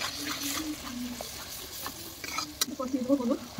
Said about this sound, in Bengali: তার মধ্যে জিরে, শুকনো লঙ্কা, তেজপাতা আর পেঁয়াজ দিয়ে এটাকে হালকা করে একটু কষে নেওয়া হবে